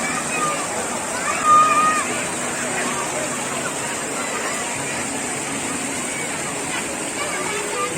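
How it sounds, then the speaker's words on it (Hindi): A small waterfall and water stream at Trail 5 in Islamabad, Pakistan, pours in a steady, even rush, with a crowd's voices chattering in the background. "इस छोटे से वाटरफॉल को, वाटर स्ट्रीम को एंजॉय करने के लिए"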